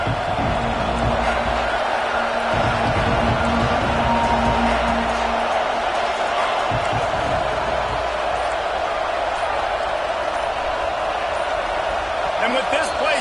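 Stadium crowd roaring at a Florida State college football game, a loud sustained wash of noise that builds as the offense takes the field, heard under continuous play-by-play commentary.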